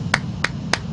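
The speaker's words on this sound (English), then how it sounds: "yes, I do clap for all of them." Three quick, sharp hand claps for a birthday, evenly spaced and close, over a low background hum.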